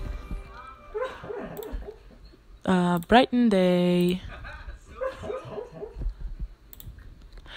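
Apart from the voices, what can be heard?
dog whimpering and barking in her sleep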